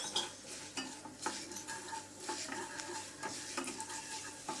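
A teaspoon of urad dal fries in hot oil for spinach tambuli, with a soft continuous sizzle broken by scraping and clinking as a spoon stirs it in the pan.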